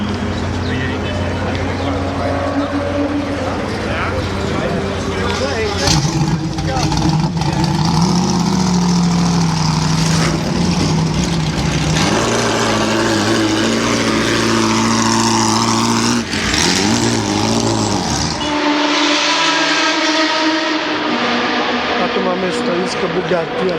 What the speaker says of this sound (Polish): piękne odgłosy pędzące samochody serii C wyścigowej